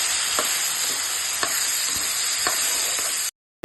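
A seasoning mixture with asafoetida sizzles in a pan while being stirred for festival prasadam, a steady hiss broken by several soft scraping strokes, close and clear before cutting off abruptly near the end.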